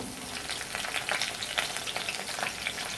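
Green chilies and black cumin seeds sizzle in hot oil as a tempering, a steady close crackle with bright spattering pops and no voices.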